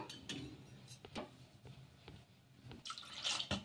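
Water poured little by little into thick dosa batter in a kitchen, making faint, sparse drips and small splashes in a quiet room, with a brief louder splash near the end.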